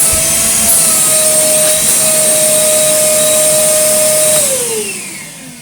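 An Einhell TC-VC1812 cordless vacuum cleaner running close and loud, a steady high motor whine with a constant tone that drops and fades as it winds down at the end.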